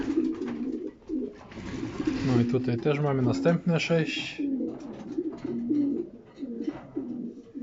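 Pigeons coo in repeated low, throaty bursts throughout, close by in a pigeon loft, while someone talks over them for much of the time.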